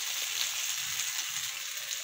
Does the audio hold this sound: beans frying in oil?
yes